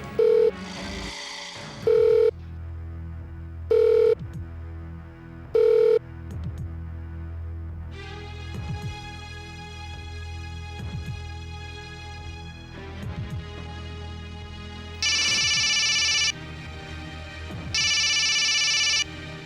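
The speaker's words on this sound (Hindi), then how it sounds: "फोन मत उठाना।" A telephone rings in four short, regular bursts, followed by tense sustained music tones and two louder, longer ringing bursts near the end; no voices.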